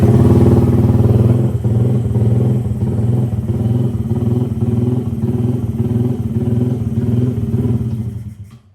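A stock Honda Click scooter engine idles steadily and close by, a loud, even putter with slight clatter that carries on unbroken before fading out at the very end.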